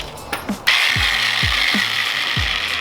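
A budget $50 impact wrench working on a coilover strut on a BMW E46: a rapid hammering rattle starts abruptly and runs steadily, loud and close, with repeated low knocks underneath.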